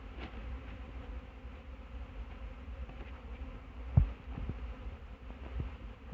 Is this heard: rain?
no